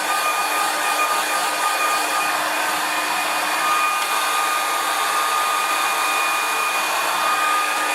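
Hair dryer blowing over a freshly painted watercolour, a loud, steady whooshing drone with a fixed whine, held close and unbroken for several seconds, nobody talking.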